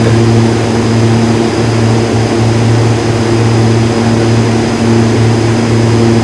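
Steady, loud drone of a light single-engine propeller aircraft on landing approach to a runway, with strong low harmonic hum and broadband roar holding constant throughout, close and continuous with no talk.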